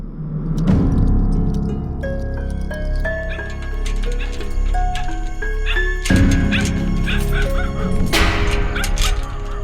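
Several dogs bark and yelp outside, sharp repeated barks over a tonal musical score, fairly loud and close, with brief whimpers between bursts.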